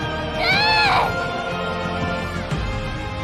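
Children shout and scream in a crowd at a live Demon Slayer Mugen Train Arc stage show, with high excited voices rising near the start over a steady busy hall din.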